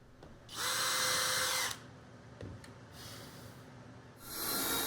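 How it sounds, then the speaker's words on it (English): A power drill bores shelf pin holes through a Kreg jig into bookshelf panels, sounding in short, loud, high whining bursts with brief quieter gaps and a softer spin-up between them. "I'm also adding shelf pinholes using a jig this time, just this Craig model"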